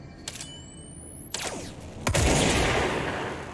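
Shots from the Director's service weapon, a shape-shifting gun in Control, ring out: a couple of sharp cracks early, then a heavier blast near two seconds that rolls into a loud, sustained burst of fire.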